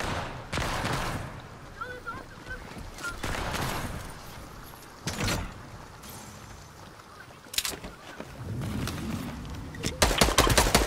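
Bursts of rapid gunfire from an online zombie squad shooter, sharp volleys scattered through the clip and thickening toward the end, with players talking over the action.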